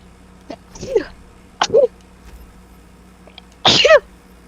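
Three short sneezes burst out indoors, the last one loudest and sharpest, each a quick breathy snap with a voiced tail over a quiet, steady background hum.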